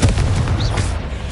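A Confringo spell explosion in Hogwarts Legacy, a single loud, close booming burst with a dense rumbling low end and a brief whooshing sweep, lasting just over a second with no talk.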